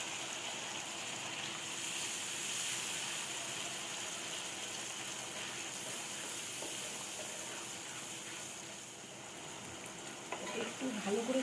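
Coconut milk gravy with slit green chillies simmers in a pan for a Bengali potol dorma, giving a steady soft bubbling hiss throughout, with a few faint clinks near the end.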